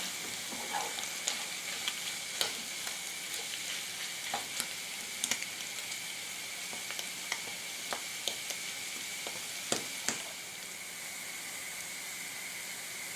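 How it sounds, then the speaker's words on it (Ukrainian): Mushrooms and onion fry in a pan with a soft, constant sizzle, broken by scattered light clicks and taps from a utensil. "Смажимо гриби ще 5-7 хвилин."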